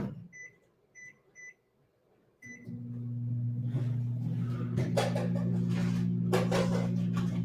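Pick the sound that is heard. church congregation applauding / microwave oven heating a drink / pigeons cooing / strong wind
microwave oven heating a drink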